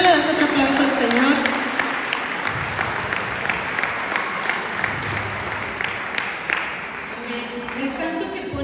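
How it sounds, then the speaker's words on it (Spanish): A church congregation claps for the Lord in sustained applause that starts loud and gradually thins, with a voice briefly audible over the opening. "¿por qué no le das otro aplauso al Señor?"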